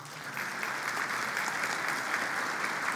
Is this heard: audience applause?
yes